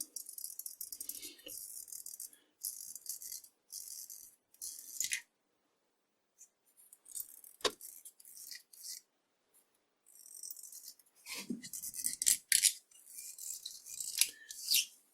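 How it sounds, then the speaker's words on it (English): A box cutter knife scrapes green residue off the spindle of an old Karger lathe in short raspy bursts of close, hissy scratching, separated by quiet pauses, with a sharp click midway. "I'm going to scrape off this green stuff using this box cutter knife."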